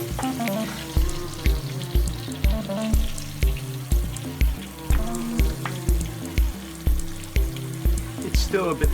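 Fish frying in a pan, a dish cooked at home in Japan, giving a steady close sizzle under a bed of music with a regular beat.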